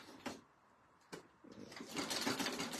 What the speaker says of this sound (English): I'm just going to start sewing again